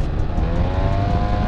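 BMW motorcycle engine revving high on a twisty mountain road near Madrid, a loud, steady, continuous high-rpm engine roar with strong wind rush throughout.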